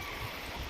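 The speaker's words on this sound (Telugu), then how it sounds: "ఆ జలపాతం సౌండ్ విన్నప్పుడల్లా" Penchalakona waterfall pours in a steady, close broadband rush of falling water, filling the brief moment without a break or any voices.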